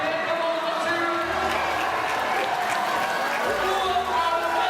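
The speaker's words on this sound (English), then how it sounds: "Folks, clap your hands. Come on, let's hear it." A large audience at the Pokémon VGC World Championships finals claps and cheers in a steady, dense wash of sound that holds for several seconds, with voices mixed in underneath.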